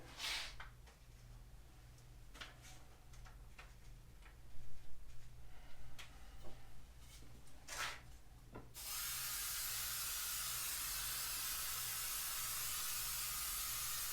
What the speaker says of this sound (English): We're gonna spray them with Super 77.